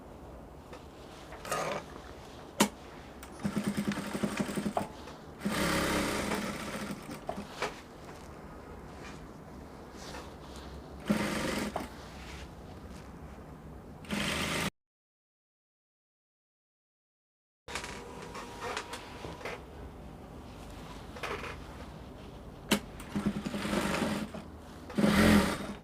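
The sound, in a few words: sewing machine stitching a dress seam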